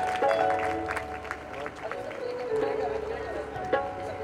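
Steady applause from an audience at an outdoor Christian satsang in a Punjab village, with dense, continuous clapping and a crowd murmur underneath that runs the whole time.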